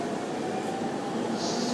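A Tokyo train stop at night gives off a steady rail rumble and hum, a continuous mechanical drone with no distinct voices.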